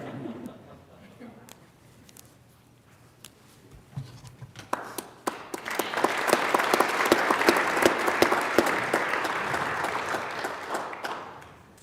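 Chamber applause at a state judiciary address, starting with scattered claps and rustling, then building into loud sustained clapping from a large audience before tapering off.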